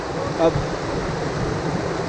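Cold lake water at Chandratal sloshing and splashing steadily around legs while someone wades through it, a continuous nearby rush of water with a brief faint voice near the start.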